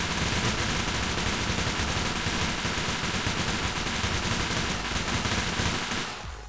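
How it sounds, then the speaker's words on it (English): A minigun in the video game Military Tycoon fires one unbroken, loud stream of rapid gunfire for several seconds, then cuts off abruptly at the end. "I'll go use the minigun."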